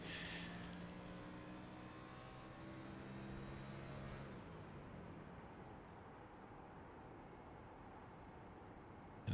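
Onboard a NASCAR race car coasting through a corner, a low steady engine drone with light throttle that drops to a softer road and wind rumble partway through, fairly quiet and continuous.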